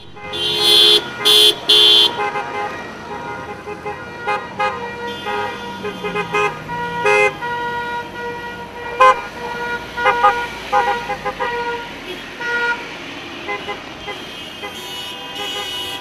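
A convoy of cars in an Automaidan rally drives past honking, with loud, repeated horn blasts over steady road noise, the honks clustered near the start and scattered throughout, and voices murmuring in the background.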